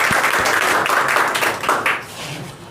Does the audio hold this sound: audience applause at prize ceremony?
yes